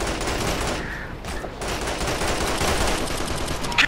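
Heavy automatic gunfire from the Operation Flashpoint: Red River video game forms a dense, continuous barrage of overlapping shots. It stays loud throughout and ends in a sharper burst near the close.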